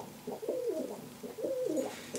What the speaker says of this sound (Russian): Наша ворона Капри еще в молодом возрасте получила травму лапки